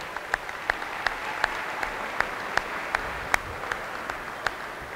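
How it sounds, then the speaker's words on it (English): Scattered, evenly spaced claps ring out at a high school boys' basketball all-star game, soft and somewhat distant over a quiet crowd murmur. "how about a big round of applause for all of these senior basketball players here tonight?"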